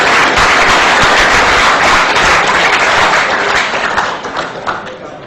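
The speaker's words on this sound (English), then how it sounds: "Give me a round of applause" A gaming conference crowd at a competitive gaming talk gives loud, dense, sustained applause that thins and tapers near the end.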